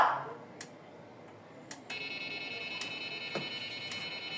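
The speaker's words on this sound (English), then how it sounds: "Now, the alarm has gone off. You can hear that sound telling you that the fence has been breached." A Nemtek electric fence energizer signals a fence breach. After a few sharp clicks, a steady high-pitched electronic alarm tone starts partway through and continues to the end.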